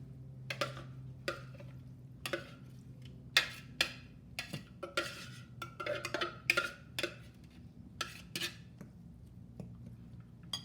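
A spoon scrapes and clinks repeatedly against a dish while roasted habanero pepper salsa is scooped out, the small irregular taps close and fairly quiet over a faint hum.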